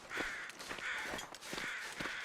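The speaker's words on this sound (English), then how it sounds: "I'm tempted to sort of go toward the crow sound." Repeated harsh crow caws ring out in the video game Pilgrim, arriving in a steady series of about four calls over a continuous outdoor ambient wash, fairly close and loud.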